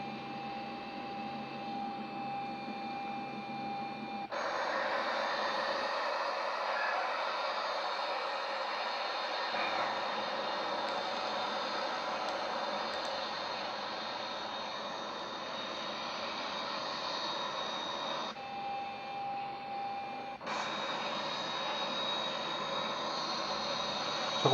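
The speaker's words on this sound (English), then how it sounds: "So you can see the engines spooling up here." Simulated Boeing 737-800 jet engines spool up in Microsoft Flight Simulator X, a broad whining roar that rises sharply, holds steady, briefly drops, then returns at full strength.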